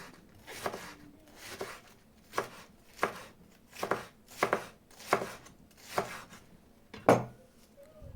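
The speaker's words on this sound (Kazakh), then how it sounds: "Капустаны осылай бөліп, ұзынша етіп турап шығамыз." A knife slices cabbage into thin long strips for borscht, about ten crisp, evenly spaced cuts against a board, each a sharp crunchy thud at a steady rhythm, close and quiet with no talking.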